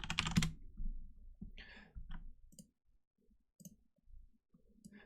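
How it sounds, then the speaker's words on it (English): Typing on a computer keyboard while searching on Google, a few soft scattered keystroke clicks close by and quiet, separated by brief gaps. "We're going to go to Google and type in stem cell"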